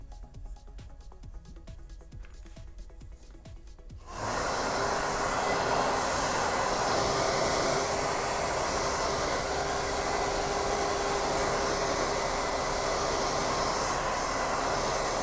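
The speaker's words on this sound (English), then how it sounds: "I'm going to hit that with the hair dryer" A hair dryer switches on with a sudden jump in level and blows a steady, loud, broadband whoosh to dry paint on a Boba Fett jet pack, running on alone.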